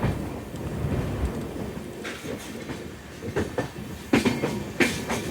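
A passenger train pulls away after waiting at a crossing near Ambala in the early morning, with steady rolling rumble and repeated clickety-clack wheel beats that grow louder and sharper toward the end.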